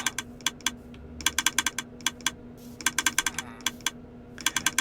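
Clicking timer of a Minecraft item mover contraption, sharp crisp clicks arriving in quick irregular bursts separated by short pauses, close and clear over a faint steady hum.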